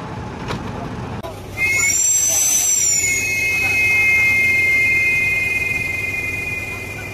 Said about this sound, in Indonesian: Pasti Anda pernah mendengar suara rem bus seperti ini ya.